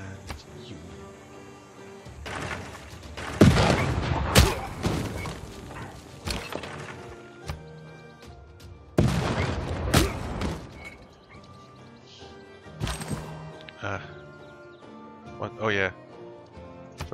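Gunfire and explosive impacts from combat in the strategy video game Civilization 6, arriving as several loud, sharp bursts and crashes spread across the stretch over a steady music-like background.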